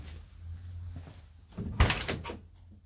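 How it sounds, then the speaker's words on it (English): A door on a 1968 Classic Mini MkII is handled during disassembly, with soft low rattles followed by one sharp close thunk and a brief clatter, fairly faint and without talk. "Today we are going to disassemble the doors and take them off their hinges."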